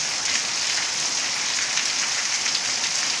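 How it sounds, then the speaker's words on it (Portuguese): Steady rain falls after several very hot days, a dense, even hiss of drops on surfaces that continues unbroken and fairly loud, with no voices. "Essa chuva que cai."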